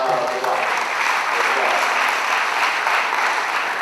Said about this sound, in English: Ladies and gentlemen, big round of applause for him